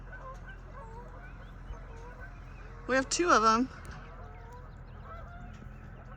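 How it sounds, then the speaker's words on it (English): Geese honk in a short, loud burst of several calls on a farm pond, with someone speaking briefly over the steady outdoor background. "Let's see if these geese fly over to our pond."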